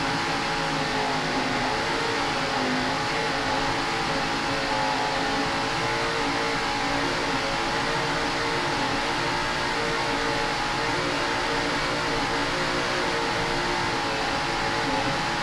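Powerful racing boat engines drone and rev loudly and continuously at the start of an APBA world championship race in Key West, a thick roaring mechanical noise with no voices.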